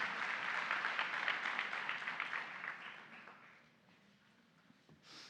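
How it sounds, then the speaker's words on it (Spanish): Congregation at a Spanish-language church service applauding together: dense, steady clapping that fills the room for about three seconds, then thins and fades to a faint patter. "Damos un aplauso al Señor"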